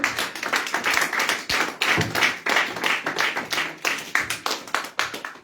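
A church congregation applauding: rhythmic, fairly close hand clapping in steady unison beats, with some louder pulses and faint cheering beneath.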